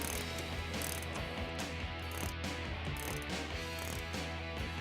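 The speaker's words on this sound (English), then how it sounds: "And then we'll tighten this bolt using that same 18 millimeter." A ratchet wrench with an 18 mm socket tightens a bolt while a steering stabilizer is installed on a Jeep Wrangler JK. Rapid, continuous clicking runs close up throughout, with no talk.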